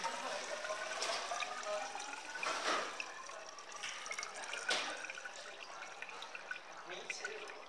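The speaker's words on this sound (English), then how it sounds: "we are going to go ahead and fill that with water." Water pouring into a glass cylinder from a tap, a continuous splashing trickle with brief louder gushes, fairly close and moderate in level, with a voice faintly present underneath.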